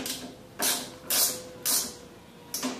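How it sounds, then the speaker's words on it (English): A ratchet wrench tightening the nut on a go kart mirror, four short clicking ratchet strokes in an even rhythm, close and fairly quiet. "Adjust this, and then you can finish tightening the nut."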